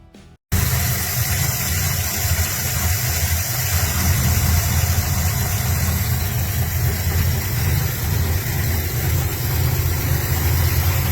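A classic project car's engine idles steadily after a brief quiet moment, a smooth, even low rumble with constant mid-frequency drone and no revving, close and alone.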